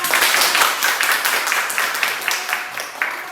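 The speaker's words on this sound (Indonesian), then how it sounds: "Beri tepuk tangan" A class claps together in a room, a dense steady wash of many hands that holds strong throughout and thins slightly toward the end, with a few sharper individual claps standing out.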